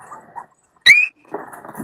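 A dog in a quiet room lets out one brief, high whine or yelp, with faint shuffling noises just before and after it.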